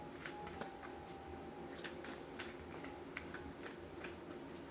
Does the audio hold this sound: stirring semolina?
no